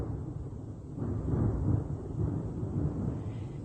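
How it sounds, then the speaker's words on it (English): Distant explosions near Niagara Falls rumble in a deep, continuous low roar, swelling into heavier booming surges around the middle and again toward the end, with no talk over them. "I hope you guys can hear these explosions in the background"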